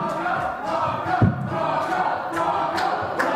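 A large crowd cheers and roars, loud and sustained throughout, with one sharp thud partway through.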